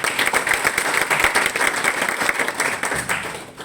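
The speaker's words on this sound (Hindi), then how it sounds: "दोनों दमदार शख्सियतों के लिए दमदार ताली बजाएंगे" An audience at a network marketing event claps vigorously for two guests, a continuous, lively burst of many hands at close range for a few seconds.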